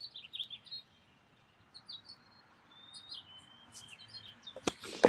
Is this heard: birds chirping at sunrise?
yes